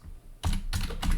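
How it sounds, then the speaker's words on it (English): A quick, close run of keystrokes is tapped out on a computer keyboard, with a handful of crisp clicks following a brief quiet moment. "so we're going to type"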